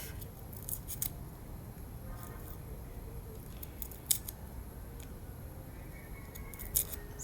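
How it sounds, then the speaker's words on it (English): A knife trims the tough roots off a single garlic clove, giving a few faint, sharp snips and clicks spaced over several seconds in a quiet kitchen. "Make sure you cut off the roots a little bit because they are tough."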